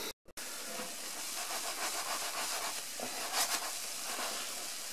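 Cake batter cooking in a frying pan, a soft continuous hiss of steam and gentle sizzling held close and steady after a brief silent gap at the start.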